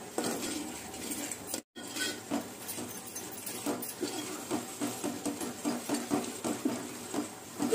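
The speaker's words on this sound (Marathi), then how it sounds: "चांगलं मिक्स करून घ्यायचं." A spoon scrapes and clinks rhythmically against a pot while river fish curry ingredients are mixed over a village stove, with repeated close metallic strokes and no talk.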